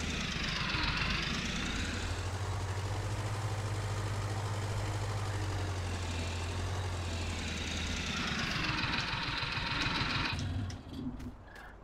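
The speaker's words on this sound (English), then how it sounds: "So we have the private helicopter." A private helicopter at a horse ranch, its steady engine and rotor whine holding loud and close for about ten seconds before easing off, with no voices.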